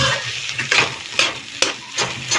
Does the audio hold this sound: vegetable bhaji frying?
yes